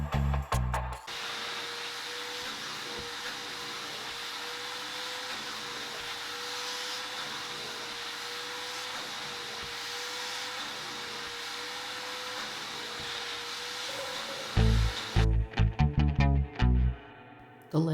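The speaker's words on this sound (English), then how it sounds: "The dust was ew, so vacuum, here we come." A vacuum cleaner sucking up sanding dust from a small wooden desk runs as a steady, loud whine for about fourteen seconds, with clattering handling noises before and after.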